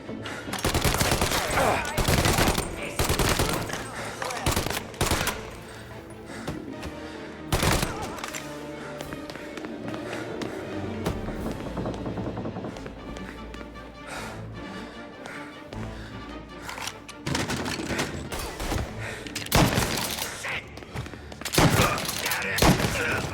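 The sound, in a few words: gunfire in Mafia Definitive Edition video game shootout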